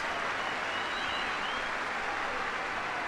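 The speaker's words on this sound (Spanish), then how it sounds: "Aplausos para Vecino." A stadium crowd at a football match between Nacional and Independiente del Valle applauds in a steady, dense wash of clapping, heard from a distance without a break.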